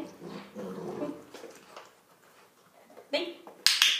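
A dog in its first retrieve training session whimpers and grunts softly at close range between quiet pauses, while a voice praises it, and a sharp snap or clatter sounds near the end.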